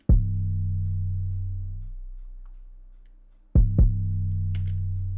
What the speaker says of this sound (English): This is what it sounds like without all the processing.